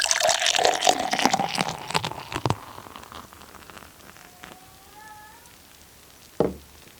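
Beer poured hard into a glass, a loud foamy gush and splash for about three seconds, then quieter fizzing with a few faint squeaks and one brief knock near the end.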